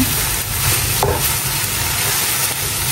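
Sisig made with mayonnaise being stirred and mixed in a pan, a steady close-up scraping and stirring over a constant sizzling hiss that runs the whole time without talk.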